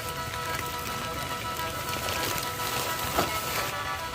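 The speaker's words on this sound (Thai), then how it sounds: "โอฝนก็ได้ มันมากแล้วครับ" Heavy rain pours steadily on a mushroom-picking trip in the countryside, a dense, loud, even hiss with no letup and no clear voices.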